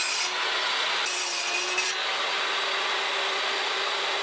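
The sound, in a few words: table saw cutting wooden boards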